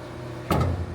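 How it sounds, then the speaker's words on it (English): A Foley 673 bedknife grinder moves its bedknife up into position: a short mechanical clunk and whir starts halfway through, a brief motorized movement that settles against the stop, close and fairly loud over a steady machine hum. "push the button here on the grinder, it'll just move this knife up into place"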